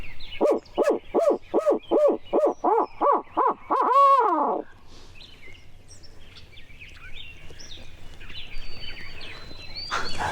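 A wild turkey gobbles in a rapid series of loud, rattling calls, then distant birdsong and faint gobbles continue in the quiet background during a turkey hunt.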